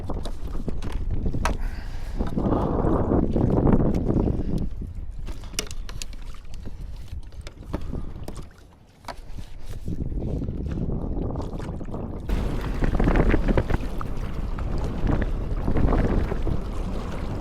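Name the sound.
rough sea and wind around a kayak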